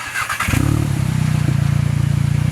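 A Volkswagen Golf GTI MK7 with its exhaust removed cranks and fires, then settles into a loud, raw, steady idle with a rapid pulsing throb and a slight blip partway through.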